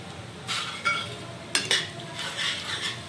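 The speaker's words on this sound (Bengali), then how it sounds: "এখন মশলাটাকে ভালো করে কষিয়ে নেব আমরা" Spice masala of chilli, coriander and cumin powders being stir-fried in a pan for a soybean muitha recipe, giving several separate scraping stirs and metal clinks, moderately loud and close, with a faint sizzle beneath.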